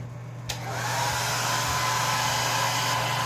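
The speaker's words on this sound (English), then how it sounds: "And now here is his little friend, the blow dryer." A hair dryer blows steadily and loudly on a bathed chick, switching on after a brief click and then running as a constant airy whir.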